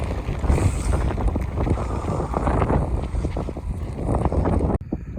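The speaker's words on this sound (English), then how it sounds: "it's a little windy up here" Strong gusty wind buffets the microphone on a windy hilltop along the Wansdyke during a mountain bike ride, a loud, continuous rumbling roar that cuts off abruptly near the end.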